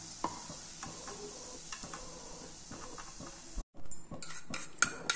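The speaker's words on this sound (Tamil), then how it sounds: "பொன்னிறமாக ஃப்ரை பண்ணி எடுத்துடலாம்" Frying in ghee until golden brown, a steady sizzle and hiss in a pan with spoon scrapes and stirring clinks throughout, broken by a brief silence near the end before clattering resumes.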